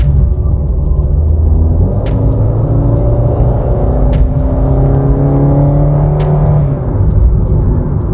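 Maruti Suzuki Ertiga VXI automatic MPV, a 2020 BS6 model, with its engine revving hard under acceleration: a loud, sustained engine drone with rising and falling tones, heard alone and without talk.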